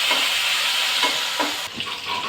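Spice paste with koi fish heads, tomato, garlic, turmeric and chili being stirred and fried in a pan, giving a steady sizzling hiss with a few scraping stir strokes, close and without talk.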